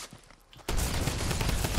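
Drum shotgun firing in a video game, a dense, loud burst of rapid blasts that erupts after a quiet moment and keeps pounding steadily to the end.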